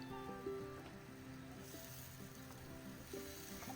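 Beef pieces frying in a spice paste in a home kitchen, a quiet soft sizzle with a low hum and a few faint clinks in the background.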